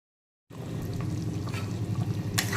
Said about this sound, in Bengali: দিয়ে দিলাম পরিমাণ মতো ফোটানো জল